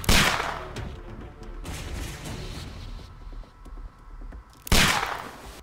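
Gunfire in the Sherlock Holmes: The Devil's Daughter video game: two sharp shots at the start and end with scattered fainter cracks and clatter between them, moderately loud.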